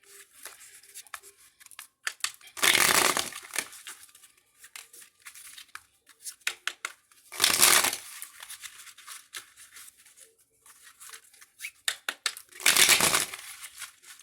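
Tarot cards are riffled in three loud bursts, separated by quieter handling with soft taps and rustles, close up.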